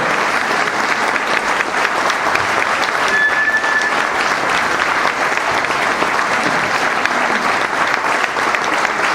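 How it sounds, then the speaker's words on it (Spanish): Steady, dense applause from a large audience at a talk, filling the whole stretch at an even, loud level with no break and no voices standing out. "Fuerte el aplauso."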